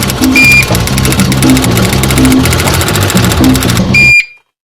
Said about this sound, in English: He feeds a bunch of boxing stats into the machine named the NCR 315 and comes up with the answer.